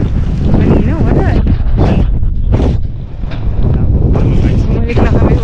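Strong wind gusting outdoors on a summer day in Japan, loud buffeting bursts hitting the microphone in waves, with faint voices underneath.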